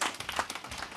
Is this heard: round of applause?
yes